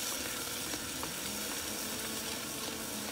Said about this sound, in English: So we're gonna saute that up for just a minute.